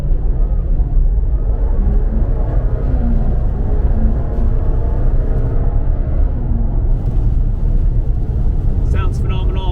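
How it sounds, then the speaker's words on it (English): A Jaguar XE SV Project 8's factory full titanium valved exhaust rumbles steadily with a deep, throaty drone, loud and close, while voices talk over it. "it's a full titanium exhaust from the factory, and it's got valves and everything"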